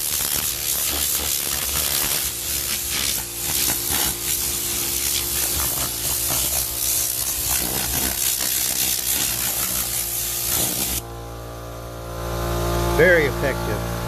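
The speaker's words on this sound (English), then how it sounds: "the compressor kicked on. This thing uses a lot of air. The compressor will run a lot" An air compressor runs with a steady mechanical hum under the loud rushing hiss of compressed air blowing pollen off a surface. The blast stops near the end, leaving the motor droning alone.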